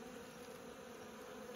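Dense, continuous buzzing of many murder hornets swarming close together at a beehive, a steady droning hum without pause.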